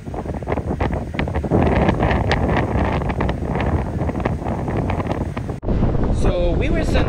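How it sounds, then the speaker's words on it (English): Strong wind buffets the microphone on an open deck of the Carnival Panorama cruise ship at sea off Mexico, a loud continuous roar that cuts out near the end as a voice begins talking. "the wind became really, really strong."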